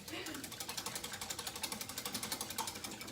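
Rapid, steady whisking of meatloaf ingredients in a bowl, close up, with quick evenly spaced strokes running throughout.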